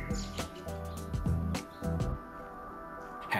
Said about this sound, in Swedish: lyssna på den vackra fågelsången